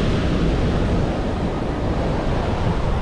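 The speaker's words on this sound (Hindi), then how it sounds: "आप देख सकते हैं मेरे आगे समंदर है" Sea waves breaking at Qantab beach near Muscat, Oman: a steady, loud surf roar heavy in the low end, with wind buffeting the microphone throughout and no speech.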